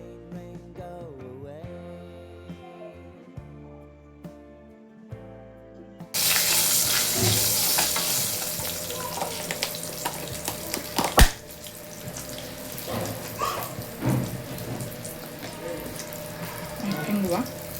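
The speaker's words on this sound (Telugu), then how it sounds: "మిర్చి, పచ్చిమిర్చి అండ్ కరివేపాకు 3 ఒకేసారి వేసేయండి." Dried red chillies, green chillies and curry leaves hit hot oil together, bursting into a loud, dense sizzle after a quieter start with background music, then frying steadily with a sharp crackle partway through.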